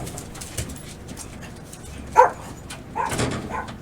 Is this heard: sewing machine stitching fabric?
no